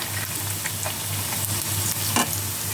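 Onions with bay leaves frying in a pan for a broiler chicken curry, a steady close sizzle with occasional stirring scrapes and a low hum beneath, no talking.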